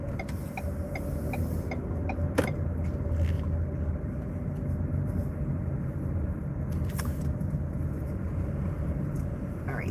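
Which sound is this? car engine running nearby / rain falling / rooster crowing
car engine running nearby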